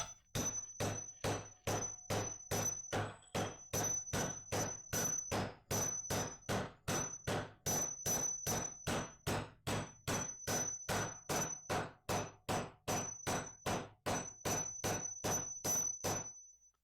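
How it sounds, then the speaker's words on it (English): Steady, evenly spaced metallic hammer blows ring out one after another, around thirty sharp clanging strikes with a ringing tone, close and distinct, driving in a large construction anchor. "Take it in. Hit our trusty hammer."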